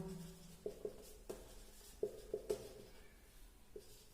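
Chalk or marker writing on a board during a physics lesson, a series of short scratchy strokes and taps in irregular rhythm, close and fairly quiet, with no talk over it.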